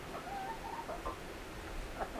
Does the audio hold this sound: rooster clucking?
yes